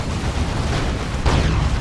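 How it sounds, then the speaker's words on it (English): A Demolisher cannon shot explodes in the video game Dawn of War 2, a loud rumbling blast amid dense battle noise, with a sharper burst near the end. "That was a pretty good demolisher cannon shot, wasn't it?"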